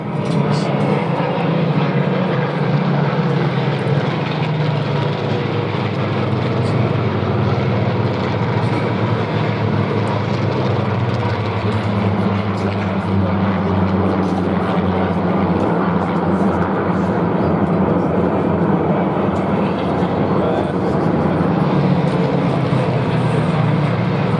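A big-engined propeller warbird roars past at the Duxford Flying Legends air show, a loud, steady engine drone holding for the full length with a slow swell and fade as it passes.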